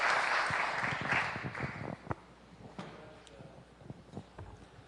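Audience clapping after an evening lecture at the Clinton School, fairly loud at first and fading to scattered claps within a few seconds, with no talk over it.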